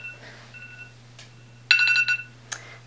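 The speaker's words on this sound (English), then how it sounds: "That is my alarm reminding me to eat" A phone alarm set as a lunchtime reminder: soft steady electronic tones, then a louder burst of rapid repeating beeps and a final short chirp, close by in a quiet room.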